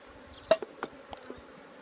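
Honey bees around an open, heavily populated beehive, a faint scattered buzzing with a few brief sharp knocks, quiet overall.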